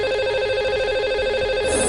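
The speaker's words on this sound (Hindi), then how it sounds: "आइए सबसे पहले उन्हें फोन लगाते हैं।" A telephone rings steadily as a studio places a call to a lucky caller on a radio show, the tonal ringback held alone and clear at moderate level for the whole moment.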